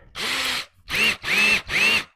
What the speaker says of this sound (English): I'm going to very carefully drill this out.